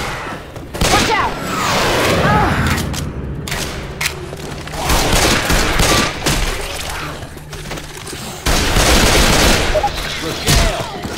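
Heavy gunfire and explosions in a chaotic action scene, loud sustained volleys of shots with booming impacts and thuds, close and dense, mixed with shouting voices.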